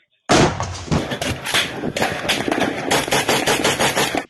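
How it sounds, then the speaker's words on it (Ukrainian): Dense, rapid bursts of gunfire crackle continuously at close range during combat amid shelling, loud and sustained, with a few heavier bangs mixed in and faint voices underneath. "Остріл!"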